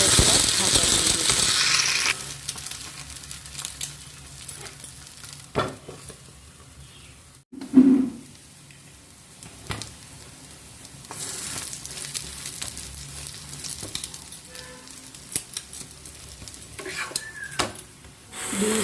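An egg fries in a covered pan, sizzling strongly at first, then quieter after a clunk of the lid, with the hiss rising again later and a voice heard at times.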